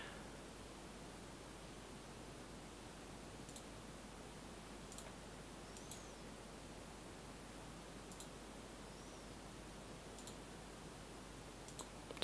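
Faint, sharp computer mouse clicks come at irregular intervals of a second or two, about seven in all, over a steady hiss of background noise during work in a software interface.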